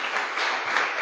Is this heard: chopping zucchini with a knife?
no